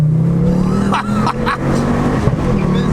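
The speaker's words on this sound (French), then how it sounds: "t'as fait brûler les pneus là" Ford Focus RS500 mkII, a 350 hp front-wheel-drive car, spinning its wheels as the engine revs hard and steadily, with tire squeal rising and falling, loud and close throughout.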